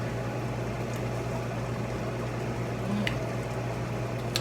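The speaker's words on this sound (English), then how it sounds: "Even though it's boiling at this point, I'm still gonna put this lid on it" A pot of homemade cherry jam bubbles at a steady boil, with a constant soft seething hiss and occasional faint pops, heard alone and close with no talk.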